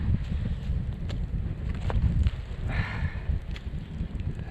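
Wind blows snow across a frozen lake, a rough, gusting rumble of wind buffeting the microphone with faint brushing hiss, steady and close throughout with no speech.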